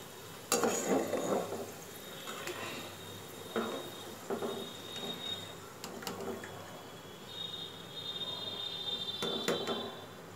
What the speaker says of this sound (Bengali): এক একটা ব্যাচ ভাজতে টাইম লাগবে চার থেকে পাঁচ মিনিট